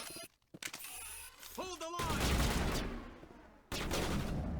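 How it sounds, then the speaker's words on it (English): Gunfire hits a wall in the video game Mass Effect, a dense, roaring stretch of rapid shots and impacts following a short spoken exchange, cutting out briefly before resuming loudly. "Oh, was that you shooting the wall?"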